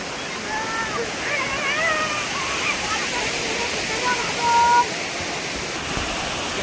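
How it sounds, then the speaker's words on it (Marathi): Steady rushing water fills the clip, a continuous broad wash with faint voices and whistles drifting over it. "हे बघ वैशांक्या हे पाणी पुढे जातात खाली"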